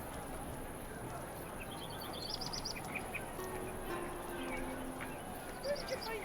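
A bird chirps faintly in the medieval combat video game Chivalry, with short high twittering calls over a steady ambient background hiss.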